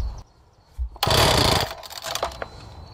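A Wacker concrete saw engine fires briefly when pulled over with the choke out, a loud rough burst of engine noise lasting about half a second before fading into quieter sputtering.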